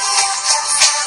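Music plays through the tiny speaker of a lightweight mini mobile phone at a trail-running camp stop, thin and tinny with little low end, steady and close for about a second.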